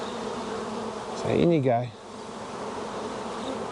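Swarm of honeybees buzzing during transfer into a Flow Hive, a steady hum throughout with a louder, closer swell midway as a person speaks briefly over it.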